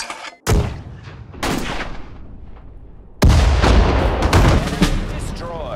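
Gunfire and heavy artillery booms ring out in a US Army allied campaign game, with sharp loud blasts at intervals over rumbling battle noise and brief voiced orders mixed in.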